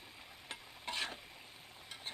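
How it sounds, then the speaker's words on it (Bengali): Lentil dumplings (bori) are stirred and fried in oil in a pan, giving faint scraping stir strokes and a soft sizzle, quiet and close with no voices. "বড়িগুলোকে খুব ভালোভাবে নেড়ে চেড়ে তেলের সাথে ভেজে নিতে হবে।"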